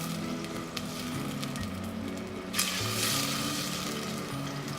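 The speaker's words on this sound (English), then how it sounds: "cook them off in this oil until they start to soften" Tomatoes fry in olive oil with a steady, moderate sizzle and bubbling that swells louder partway through, with no one talking over it.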